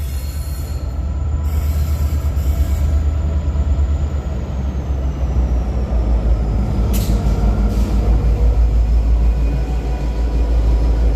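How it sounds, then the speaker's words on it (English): A coal train rolls through a city rail loop, its steady heavy rumble and clattering wagons filling the whole stretch, with brief high wheel squeals rising over the continuous roar. "they're currently running coal trains through the city loop"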